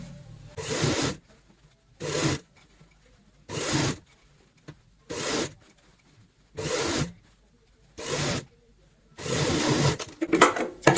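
A sewing machine runs in seven short bursts, stitching a strip along the seam of a ladies' purse made from old cloth. Each burst is a brief mechanical whir separated by quiet pauses, and the last burst is longer and rougher.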